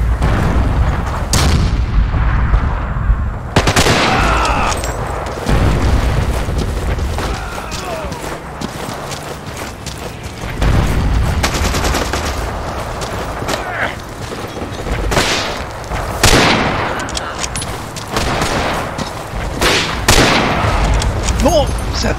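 Loud battlefield gunfire and heavy explosions in Forgotten Hope 2, a Battlefield 2 mod multiplayer match, with repeated booming blasts and scattered shots, plus players talking over the din.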